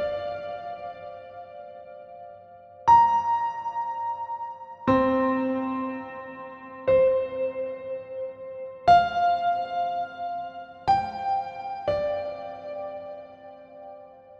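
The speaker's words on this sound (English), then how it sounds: "this is a very resonant piano sound with an awful lot of reverb on it" Simple piano melody at 120 bpm drenched in heavy reverb, single resonant notes struck every couple of seconds with long ringing tails that blur into each other, played alone with no voices.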